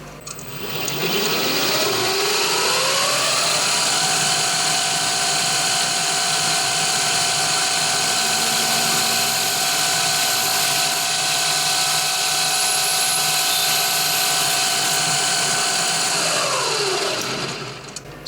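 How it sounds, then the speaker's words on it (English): A power drill whirs up to speed while making art deco wall sconces and holds a loud, steady high-pitched whine for about fifteen seconds before winding down. "Okay, we'll drill that one."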